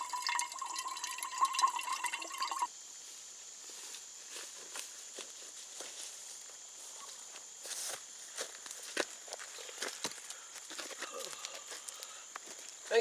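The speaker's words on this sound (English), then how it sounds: "fill up my water." Water running into a container during an outdoor evening chore, a steady watery hiss with scattered knocks and drips, faint and continuous after an opening stretch of louder rustling.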